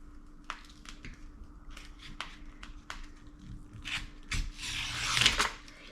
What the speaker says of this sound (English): Use a pair of scissors.